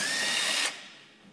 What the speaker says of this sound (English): Now with a 13 millimeter socket, remove the bolt that's holding the kingpin to the leaf spring.